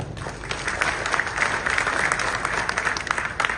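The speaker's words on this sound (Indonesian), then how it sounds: "Tepuk tangan dulu." An audience at a talk by retired Indonesian Lieutenant General Sintong Panjaitan breaks into dense, continuous clapping that holds steady for several seconds.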